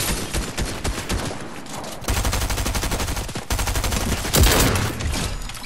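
Gunfire in an online shooter game, a rapid, loud burst of repeated shots in dense clusters with brief gaps, heard up close and alone.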